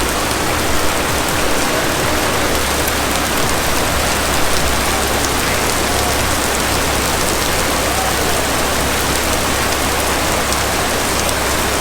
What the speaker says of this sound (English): I think we just beat the rain